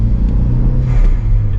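Volvo 940 Turbo estate engine revving close by, a deep, loud rumbling drone throughout a brief moment.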